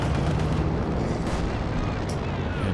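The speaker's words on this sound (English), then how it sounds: "Pops propaganda artillery at the very least." A propaganda artillery barrage in Company of Heroes 2 rolls as a loud, continuous rumbling roar of overlapping blasts that stays dense and steady the whole time.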